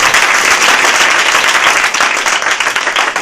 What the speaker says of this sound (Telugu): please give a big round of applause